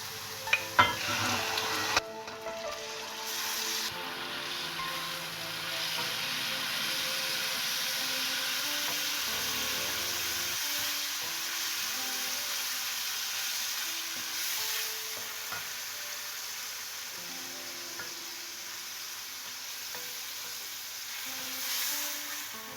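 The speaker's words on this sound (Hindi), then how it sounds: "इस तरह से मैंने चिकन को थोड़ी देर फ्राई करना है ताकि इसका कलर जो है चेंज हो जाए।" Chicken frying with softened onions in a pan gives a steady, soft sizzle, with the scrape and clatter of stirring and a few louder knocks near the start.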